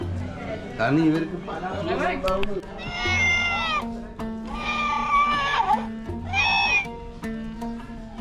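A toy cat meows when touched, repeated drawn-out electronic mewing calls in a shop setting, close and clear, with people talking over and between the calls.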